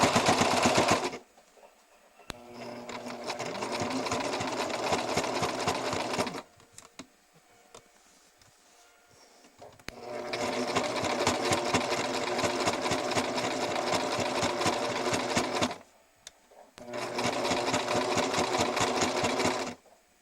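A domestic sewing machine stitches through thick fabric for making underwear, with three long, even, rapid runs of needle chatter up close, separated by short quiet pauses.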